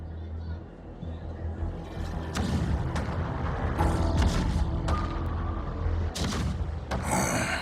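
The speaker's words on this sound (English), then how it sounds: "The rumble of the cannons." Deep booms and cracks of cannon fire in a video game rumble across a busy battle din, with heavy blasts scattered irregularly over a constant low roar.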